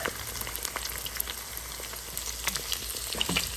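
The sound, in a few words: eggs and garlic frying in a pan for fried rice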